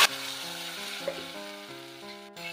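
Tomato karam chutney paste goes into a hot tempering of cumin and curry leaves and sets off a steady, close sizzle that fries on evenly. Faint scraping stirs and a low tonal hum run beneath it.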